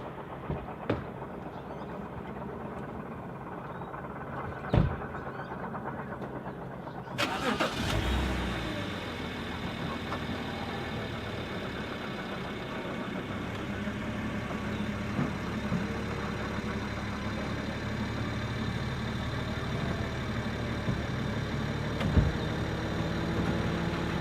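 A 2011 BMW 325i M Sport coupe engine cranks over and catches abruptly, then settles into a steady, close running drone with occasional faint clicks; no one speaks.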